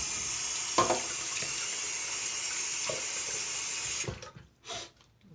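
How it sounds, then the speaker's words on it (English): Shaving gear rinsed under running tap water: a steady hiss of water flowing for about four seconds with a few small knocks, then the tap shuts off and brief splashes follow. "Rinse this out real quick."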